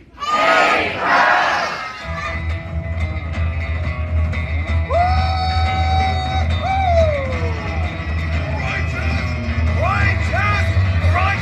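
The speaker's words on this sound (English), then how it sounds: "So the count of three, we're all going to yell, hey, Crush." An audience at the Turtle Talk with Crush show shouts a greeting together in one loud burst. Cartoonish character voices and show music follow under a steady crowd murmur.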